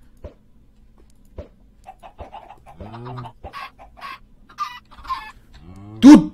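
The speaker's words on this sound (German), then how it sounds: "Gut, wir haben jetzt ein weiteres Huhn," Chickens in Minecraft cluck in short, scattered bursts with quiet gaps between them, ending in a loud, close squawk.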